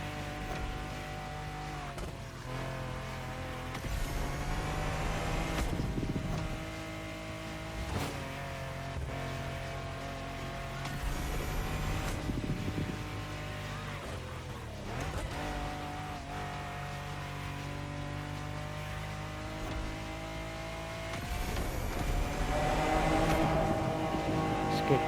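Race cars from The Crew Motorfest speeding along a freeway, engines droning and shifting pitch as they rev up and ease off through gear changes, steady and close with occasional whooshes.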